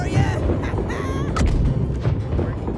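Ship cannons boom in the naval game Blackwake, several heavy blasts amid battle noise while players shout over the fire.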